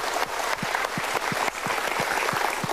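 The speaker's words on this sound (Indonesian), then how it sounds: "Kita berikan tepuk tangan dulu." Sustained audience applause at a motivational seminar fills the room, dense and steady, with a few louder individual claps standing out in the wash.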